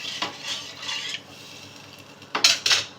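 A metal lid set down with two quick clanks on a cooking pot of water for Bengali dhokar dalna, following softer utensil scraping and clatter earlier.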